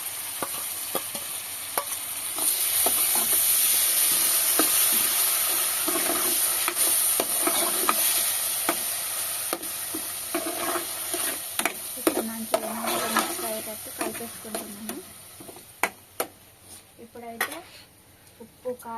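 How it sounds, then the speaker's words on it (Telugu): Broad beans and garlic fry in a pan on a medium-heat stove for chutney, making a continuous sizzling hiss. Intermittent stirring scrapes and utensil clatter grow more prominent as the sizzle fades toward the end. "వేసుకొని ఫ్రై చేసుకుంటున్నాను స్టవ్ మీడియం పెట్టి"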